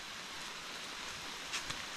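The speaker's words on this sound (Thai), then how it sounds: "ฝนจะหยุดตกยังบ่หยุดตกมาเลย" Rain falls steadily on a small hut in the middle of a forest, a soft, even hiss with a couple of faint drips near the end; quiet and continuous, with no talking.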